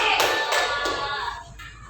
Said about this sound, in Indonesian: Beri tepuk tangan buat kelompok 3.